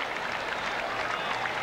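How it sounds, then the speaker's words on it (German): Encouraging applause from a tennis crowd at a 1994 US Open second-round match, a steady, moderate patter of clapping that holds evenly through the short stretch. "Aufmunternder Beifall"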